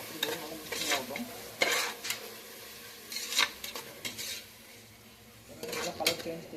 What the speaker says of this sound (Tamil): பாருங்கள், போட்டு நல்லா வதக்கிடுவோம்.